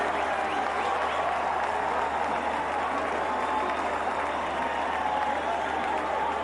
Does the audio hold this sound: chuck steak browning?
no